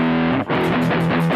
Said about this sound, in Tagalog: Ito yung distortion lang.